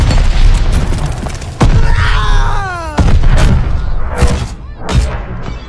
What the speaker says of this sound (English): The bombing run incoming.